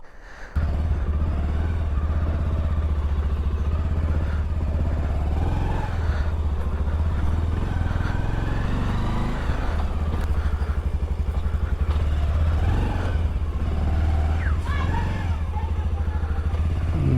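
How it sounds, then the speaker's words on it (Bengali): A motorcycle ridden along a beach in the afternoon, its engine a loud, steady close drone with wind buffeting throughout and a voice occasionally heard beneath it. "ভাবলাম একটু বিকেলবেলা একটু বাইকটা নিয়ে একটু বিচে গিয়ে রাইড করে আসি"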